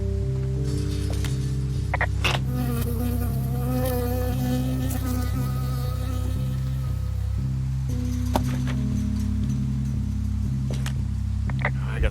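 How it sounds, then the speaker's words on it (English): Close, steady insect buzz of a bee from the video game Firewatch, droning continuously throughout with a low pulsing hum beneath and occasional faint clicks. "I got stung by a bee."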